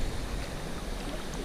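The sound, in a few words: water rushing over river chutes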